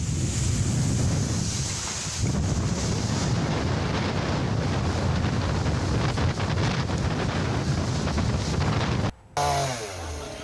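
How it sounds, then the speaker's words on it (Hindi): Strong cyclone winds roar across a microphone on the Odisha coast while high waves crash and surge, a dense continuous rumble that cuts out abruptly near the end before resuming. "देखिए किस तरह से लहरें जो है, तेज लहरें हिलोरे मार रही हैं और ऊंची ऊंची लहरें अब उठ रही हैं।"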